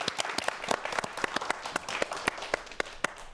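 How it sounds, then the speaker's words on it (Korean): Applause from a lecture audience, moderate in volume with distinct individual claps steady throughout. "박수 한번 부탁드릴게요"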